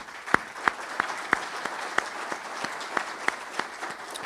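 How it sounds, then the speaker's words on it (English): A crowd at a city State of the City event applauds its legislators with a broad, sustained wash of clapping, a few sharper individual claps standing out near the microphone. "Let's give them all a round of applause."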